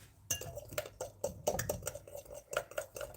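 Fork stirring pancake batter in a bowl, a run of quick clinks and scrapes of metal on the bowl in an irregular rhythm, close and fairly loud with no talk.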